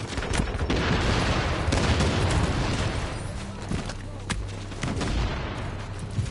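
Gunfire in a PS4 shooter game: a dense, continuous run of shots and booming blasts that sounds close and loud, with a voice talking over it.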